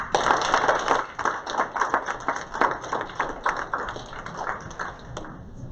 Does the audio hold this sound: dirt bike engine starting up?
no